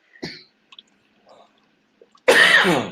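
A single loud, close sneeze bursts out near the end, preceded by a few faint scattered clicks and small mouth or throat noises in an otherwise quiet room.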